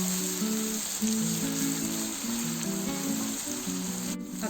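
Green chili and coconut paste fries in a pan for a prawn and brinjal biryani, a dense, loud sizzle that holds steady throughout, with a musical tone playing over it.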